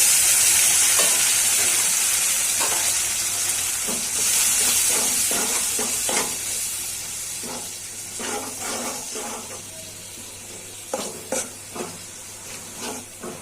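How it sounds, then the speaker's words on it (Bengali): Spices with salt and a splash of water sizzle loudly in a pan for egg and lentil curry, a continuous frying hiss that gradually softens while a spoon scrapes and stirs in short, repeated strokes. "একটু পানি দিয়ে কষতে দিচ্ছি মশলাটা"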